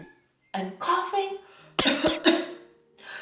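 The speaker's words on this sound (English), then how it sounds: "A sick kid will start sneezing, achoo, and coughing," A child coughs several times in short harsh bursts, close and fairly loud, separated by brief pauses.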